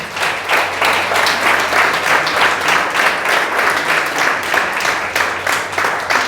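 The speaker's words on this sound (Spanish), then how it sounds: "Dale un aplauso al Señor." Congregation applauding during a Spanish-language church service, sustained loud rhythmic clapping from a crowd with no talking over it.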